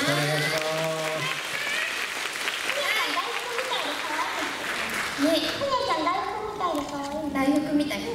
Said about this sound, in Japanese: 皆さん今日の主役現れましたら盛大な拍手でお迎えくださいね